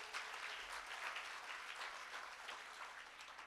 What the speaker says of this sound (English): let's really give him a round of applause